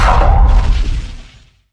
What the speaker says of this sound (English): I used library sounds to create the four basic layers of the shotgun shot.